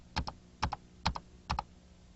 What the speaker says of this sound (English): To delete the rest of the characters in the word easiest, we press the delete key 4 times.